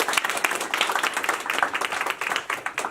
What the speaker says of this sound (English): Could we give Brad a round of applause?